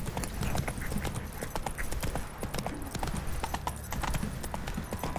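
In The Witcher 3, the horse Roach trots along with a steady, brisk clip-clop of hooves, each beat clear and close, keeping an even rhythm throughout with no voices.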